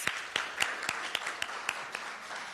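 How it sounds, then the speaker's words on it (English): Scattered clapping from a small audience at a political candidate forum, sharp individual claps landing irregularly over a steady background hiss, fairly quiet and distant. "Another round of applause."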